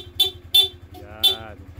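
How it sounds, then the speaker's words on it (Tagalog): Three short, bright horn toots from a Yamaha Sniper 155 motorcycle sound close by, the last one slightly longer, over a low steady engine idle. "Tapos busina sir."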